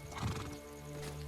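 A horse in the video game Chrono Odyssey, a quick clip-clop of hooves with a short neigh, brief and fairly quiet.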